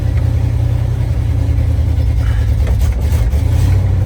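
A 1978 Ford F150 that has been sitting a long time and may need carburetor work, its engine running close by with a low, steady, rumbling idle that rises slightly toward the end.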